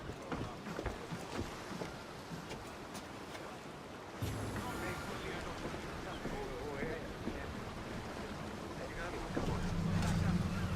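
A sailing ship at sea in Assassin's Creed Odyssey, with rushing water and wind noise that swell louder partway through, a soft rhythmic thumping, and voices speaking over it.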